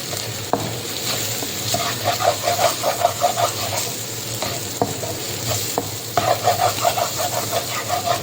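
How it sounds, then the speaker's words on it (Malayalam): Eggs with agathi flowers stir-fried in a pan, making a steady close sizzle with bursts of rhythmic scraping and stirring strokes and a few sharp clinks of the utensil against the pan, with no talking. "ഇനി ഇതിനെ നമുക്ക് നന്നായിട്ടൊന്ന് ചിക്കി പൊരിച്ചെടുക്കാം"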